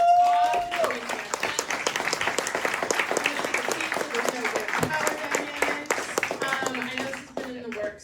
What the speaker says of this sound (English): Another round of applause for this amazing talk.